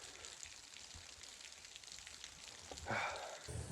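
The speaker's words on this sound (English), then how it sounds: "Rainy, nasty, gross." Rain falls on a wet autumn day in Indiana, with a soft, steady patter and hiss and a brief louder splash near the end.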